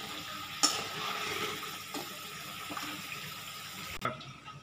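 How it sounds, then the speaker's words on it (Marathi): Moong dal bhaji fritters fry in hot oil with a steady, close crackling sizzle, broken by a few sharp clacks and knocks of utensils, the loudest near the start and just before the end. "अशा तऱ्हेने मी सगळे भजी तळून घेते।"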